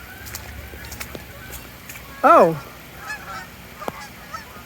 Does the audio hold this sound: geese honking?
yes